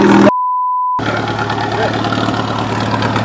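A buggy's exhaust runs at a steady idle at an outdoor meetup of buggies, jeeps and motorbikes, a loud close low drone after a brief beep, with voices faintly over it.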